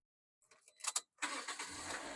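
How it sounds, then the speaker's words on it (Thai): A 2015 Toyota Altis 1.6G engine cranks with a few short sputtering turns, then catches and settles into a steady idle, close by. "เดี๋ยวเราไปดูในส่วนของห้องเครื่อง และฟังเสียงเครื่องยนต์กันบ้างนะครับ"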